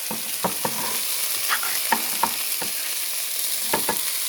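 Ground sirloin and onions frying together in a pan for gluten-free chili, a steady close sizzle broken by several sharp scraping stirs of a utensil, with no talking.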